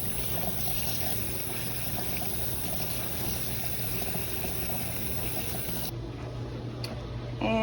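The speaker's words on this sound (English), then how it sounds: "Just rinse it off with cold water." Cold tap water runs over cooked rice being rinsed in a kitchen, a steady, faint hiss and trickle that continues evenly and then drops away near the end.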